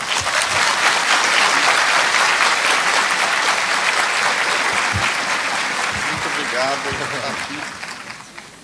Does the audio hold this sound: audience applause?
yes